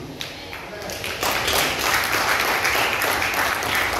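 A church congregation breaks into applause, with scattered claps swelling after a second into dense, steady clapping that carries on to the end, under a speaking voice.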